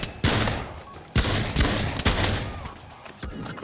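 Several loud Desert Eagle pistol shots ring out in the VR shooter Pavlov, each a sharp crack with a booming tail, fired at an uneven pace across a few seconds with no talking.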